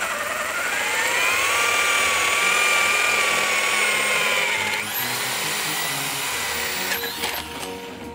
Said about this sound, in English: We've searched the city of Hull high and low to get this auger bit.